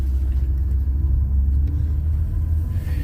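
An old, basic used car on a test drive near Fairborn, Ohio, its engine and road rumble droning low and steady from inside the cabin as it heads onto highway 675.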